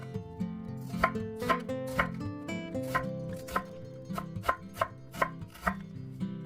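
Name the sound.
thinly slicing a quarter onion with a knife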